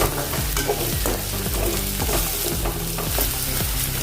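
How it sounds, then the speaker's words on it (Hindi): Ginger and garlic fry in oil in a pan for an eggplant and tomato curry, a constant close sizzle broken by regular scraping strokes of a spatula stirring, with no one talking. "थोड़ी देर इसको भून लेंगे अदरक लहसुन को"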